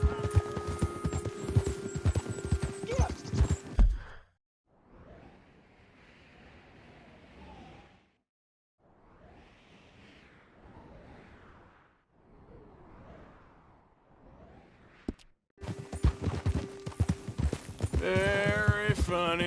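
Horse hooves clip-clop steadily in Red Dead Redemption 2, in loud bursts at the start and end with quieter stretches of trotting between, under game music and ambience.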